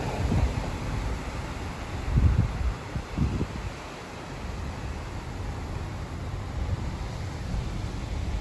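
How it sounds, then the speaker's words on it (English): Steady wind roars and buffets the microphone, with low gusty thumps and a constant broad hiss like moving trees. "Very windy. You can really tell by the trees."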